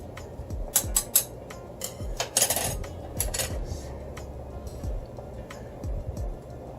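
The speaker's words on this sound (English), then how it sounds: "I have to put the lid on it." Metal clinks and clatters of a lid being handled over a pot of noodles heating toward a boil, a run of sharp close knocks and scrapes with small taps spread throughout, no talking.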